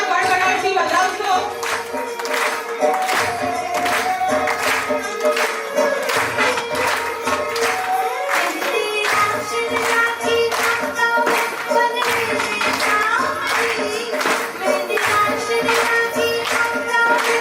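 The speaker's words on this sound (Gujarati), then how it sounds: "બધા તાળીઓના ગડગડાટથી વધાવશો." An audience claps and applauds continuously at a stage dance performance, the dense ragged clapping staying loud and steady throughout with music tones running alongside.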